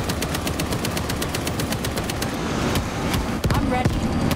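Sentry gun in Payday 2 firing in rapid automatic bursts, a dense steady rattle that dominates throughout amid game noise, with some background speech.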